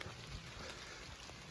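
Light rain pattering steadily at a log camp in the woods, a soft continuous hiss of drops on surfaces with no voices, even and unbroken throughout.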